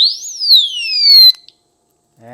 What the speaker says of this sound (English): if anyone tampers with this, it's going to make noise. It's 110 dB alarm